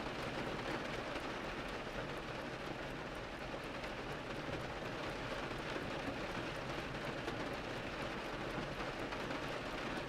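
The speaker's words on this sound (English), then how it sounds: "trickling down the storefront windows with a rushing, crackling sound" Rain streams down storefront windows in a steady, dense hiss with faint crackles, soft and unbroken from start to finish, with no voices.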